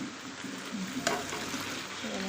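Chicken frying in a pan as potatoes are added, a steady broadband sizzle with a brief sharper burst of crackle midway, close and continuous with no voices.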